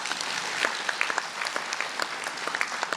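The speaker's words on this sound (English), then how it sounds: "let us give them a round of applause and thank them" Conference audience at the African National Congress Eastern Cape provincial conference applauding, loud continuous clapping with sharp individual claps standing out throughout, no speech over it.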